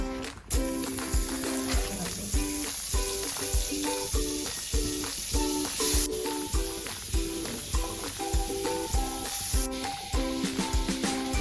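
Butter melting and sizzling in a kadai produces a soft hissing fizz beneath louder rhythmic background music with no speech.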